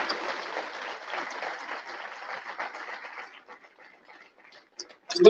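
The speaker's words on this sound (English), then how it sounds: "Let's give them a round of applause." Luncheon audience gives a round of applause, moderate clapping from a room of people lasting about three seconds before thinning to a few scattered claps and a brief noise at the end.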